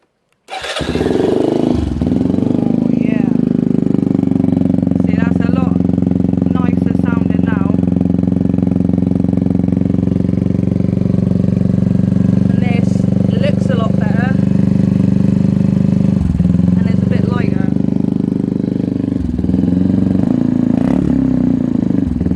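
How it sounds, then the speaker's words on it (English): Benelli TNT 125 motorcycle with a Werx straight-pipe exhaust starts up and settles into a loud, close, steady idle, its throaty drone running for about twenty seconds under occasional brief chatter. "So that's a straight pipe. So now the bike is a bit more responsive, it's a bit quicker, and it's a lot louder."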